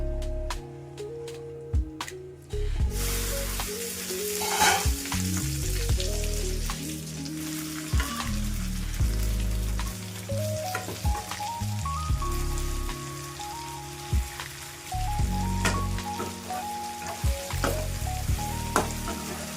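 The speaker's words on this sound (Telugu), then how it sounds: "అదే ఆయిల్లో కాస్త అల్లం వెల్లుల్లి పేస్ట్, పసుపు వేసుకొని వేయించి వంకాయలు వేసి మూత పెట్టి ఒక 5 నిమిషాలు మగ్గించుకుందాము" Brinjals frying in oil with ginger garlic paste and turmeric for a function-style stuffed eggplant dish crackle and sizzle continuously, with spatula scrapes and clanks over a loud, busy cooking background and no speech.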